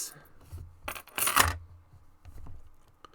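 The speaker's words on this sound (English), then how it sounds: "I'm jangling the keys for you Star Trek fans." A bunch of keys jangled briefly by hand, producing a few bright metallic clinks and rattles in short bursts close to the listener.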